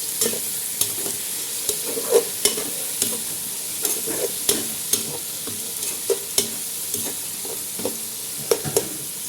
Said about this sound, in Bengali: তেল গরম হয়ে গেল এখন মিক্স করে দিলাম